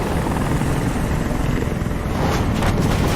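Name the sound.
helicopter in Detroit: Become Human video game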